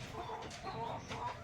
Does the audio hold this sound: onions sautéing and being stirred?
no